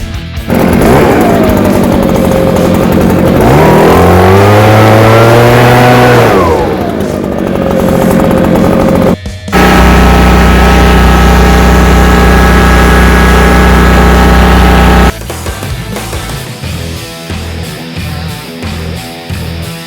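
Loud, steady engine drone from a Wright walk-behind mower fitted with a Ballard chute blower, heard up close. The pitch climbs and falls as the engine revs, cuts out briefly, then settles into a sustained roar before giving way to rougher, choppier noise.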